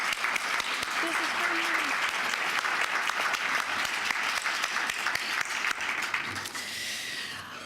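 Sustained audience applause fills a commemoration event's opening ceremony, steady and fairly loud throughout, with a few voices and cheers mixed in before it tapers slightly at the end.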